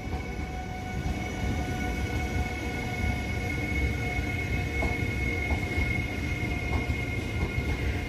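A defective electric train, its pantograph raised, runs with a steady low rumble beneath sustained high squealing and whining tones, with faint clanks along the way.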